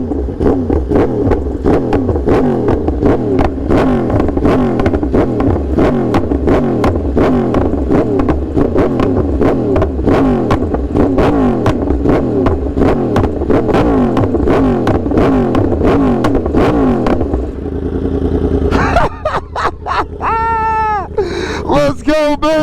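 A Yamaha R1M motorcycle fitted with a new aftermarket exhaust revs hard and loud in rapid repeated bursts, close to the microphone, then ends in sharp popping crackles as the throttle drops.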